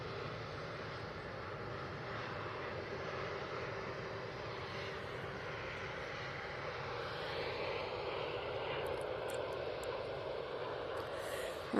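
A Virgin Atlantic jet taxis to its stand at an airport, a steady, distant, rushing engine roar with a broad hiss that swells slightly toward the end.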